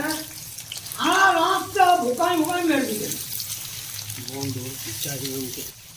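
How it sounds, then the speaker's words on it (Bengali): Onion, garlic, ginger and green chili fry in hot oil for a Nepalese-style potato and egg pickle, giving a steady soft sizzle and hiss beneath a voice talking throughout. "এবার onion garlic, ginger and green chilli, এগুলোকে আমরা একটু ফ্রাই করে নেব"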